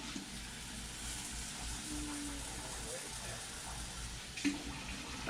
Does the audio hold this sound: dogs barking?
no